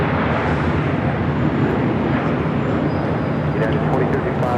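An airliner taking off from runway 25 right at LAX, a loud, steady broadband roar that holds without a break, heard from a distance with wind buffeting the microphone.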